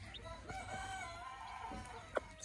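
Hen clucking softly near her fluffy chicks, with faint chick peeps and a brief sharper cluck near the end over low background noise.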